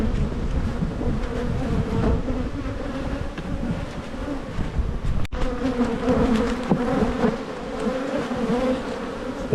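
Honey bees swarm and buzz densely around an opened hive on a windy, chilly day, a loud, continuous droning hum close to the microphone with wind gusts rustling underneath.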